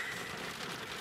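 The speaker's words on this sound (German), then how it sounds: "Regen" Steady heavy rain pours down during a thunderstorm in the Bonn and Cologne area of Germany, a dense, even hiss filling the whole brief moment.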